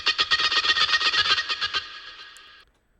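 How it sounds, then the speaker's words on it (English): Synth note sequence with an eighth-note delay copy, a steady rhythmic run of bright, buzzy repeated notes that stops abruptly, leaving a short decaying tail; no voices. "So it almost sounds like there's a duplicate of the sound playing an eighth note later"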